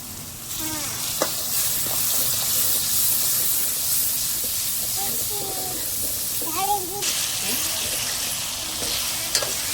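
Water poured into a pan of cooking bitter gourd curry sets off a loud, steady sizzling hiss with steam that lasts throughout, with brief stirring noises on top.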